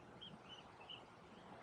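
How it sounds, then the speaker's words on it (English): Faint bird chirps, a few short high calls repeating over a steady background hiss. "You can hear the birds chirping in the background."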